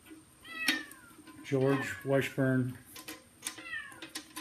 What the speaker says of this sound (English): You can hear the cat crying out there.